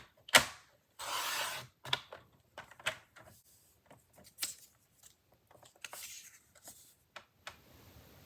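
Paper for a handmade card being cut with a trimmer, heard as a sharp click followed by a short sliding swish, then a scatter of faint taps and rustles, close and quiet with no talk.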